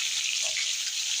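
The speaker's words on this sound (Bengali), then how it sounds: "আলুটা লাল করে ভেজে নেব।" Potato pieces fry in hot oil with a steady, bright crackling hiss that runs continuously and evenly with no talk.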